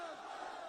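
A crowd at a PML-N political rally in Hattian Bala shouts a slogan back in unison, a brief, dense roar of many voices.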